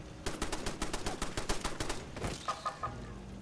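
Camp turrets in Fallout 76 fire a fast automatic stream of sharp shots for about two seconds. A few scattered pops follow, and then it settles into quieter ambience with faint chirping tones.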